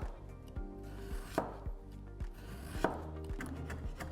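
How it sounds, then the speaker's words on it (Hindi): A knife cuts beetroot into long strips on a chopping board: several firm, evenly spaced thuds, close and clear, with soft scraping between strokes and no talking. "अब इसी तरह चुकंदर को भी लंबा लंबा काट लेंगे।"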